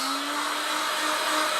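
A heat gun blows hot air steadily onto the creased foam nose of a Durafly Tundra model plane during a repair, making a continuous close, even whoosh with a faint fan whine.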